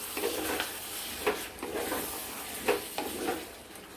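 Chicken kosha being stirred in a clay pan, a soft sizzle beneath several distinct scraping strokes of a spoon at an uneven pace, close and fairly quiet.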